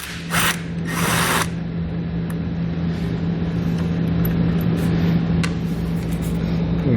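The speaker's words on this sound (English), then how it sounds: "So we'll grab a 15mm socket and remove the nut." A socket wrench removes a 15mm nut from a battery cable on a 2016 GMC Sierra, heard as a loud steady mechanical whir with a low hum and a few sharp hissing bursts near the start.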